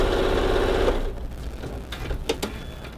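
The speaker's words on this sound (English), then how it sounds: "Or you can just sew it shut with a straight stitch, which is what I'm going to do." A sewing machine runs a straight stitch to close a fabric scrunchie, a steady close mechanical whir for about a second before stopping, followed by faint handling clicks.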